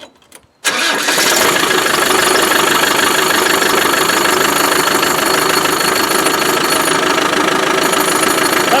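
An old Land Rover Defender engine turns over and catches after a brief moment, then settles into a loud, rough idle with a steady rattling clatter close by.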